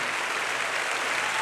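Church congregation applauding in sustained, dense clapping that fills the space evenly from start to finish, with no voices rising above it.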